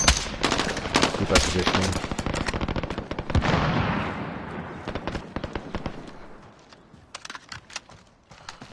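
Rapid gunfire in a video game as several squads fight, dense crackling bursts of shots packed close together that thin out into scattered distant pops, with a brief spoken callout.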